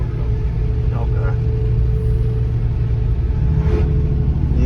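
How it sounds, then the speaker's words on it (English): The engine of a Bigfoot monster truck runs with a steady, heavy, low rumble throughout, while voices talk over it. "You guys can hear the old truck."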